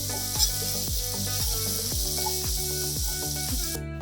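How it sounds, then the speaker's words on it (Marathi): Steady sizzling hiss of four small onions frying in a pan for egg biryani, with a rhythmic scraping of a spatula stirring about twice per second, no voices. "हे आपण 4 कांदे छोट्या आकाराचे घेतलेले होते. ते चांगले गुलाबी होईपर्यंत परतून घ्यायचे."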